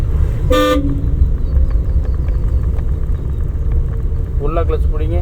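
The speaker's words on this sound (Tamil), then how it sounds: "ஹார்ன் அடிச்சுக்கங்க." A car horn toots once, short and loud, during a driving-school lesson, with an engine rumbling steadily underneath and a voice speaking near the end.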